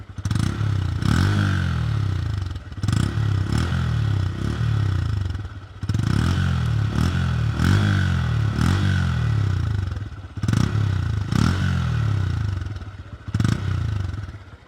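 A 2025 Honda CB125 Hornet 125cc single-cylinder engine and exhaust revving repeatedly up close, sharp throttle blips rising and falling with brief idle dips between, loud and alone without talk.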